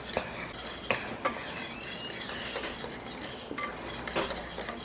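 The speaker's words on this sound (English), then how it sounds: "Make sure you use that whisk to get all of those little nooks and crannies." Metal whisk clinking and scraping against a bowl while dry baking ingredients with salt are combined, a steady close stirring clatter with sharper taps at intervals.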